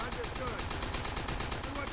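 Rapid machine-gun bursts from the video game Call of Duty: World at War, a dense, steady stream of shots sounding close and loud throughout, with no pause.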